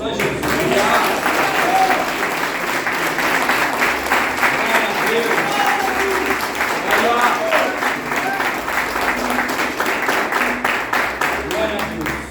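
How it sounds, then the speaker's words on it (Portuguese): Loud, steady applause from a large church congregation fills the whole stretch, dense clapping continuing without a break at a constant level. "Você pode dar uma linda salva de palmas a Jesus"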